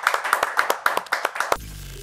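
A studio audience on a Turkish rap show claps in a quick, regular rhythm of sharp, close hand claps, which stop abruptly just before the end.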